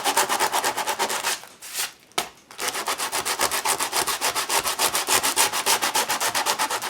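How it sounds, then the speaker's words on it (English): Sandpaper rubbed over the pages of an altered book, a fast steady back-and-forth scratching with a brief pause partway, close and alone. "I'm going to take some sandpaper in there, tear this guy up a little bit."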